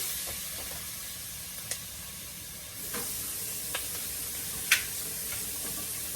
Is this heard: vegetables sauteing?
yes